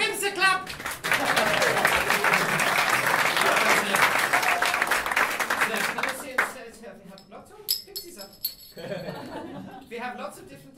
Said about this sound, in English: Give him the clap.